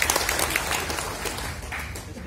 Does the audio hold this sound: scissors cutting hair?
no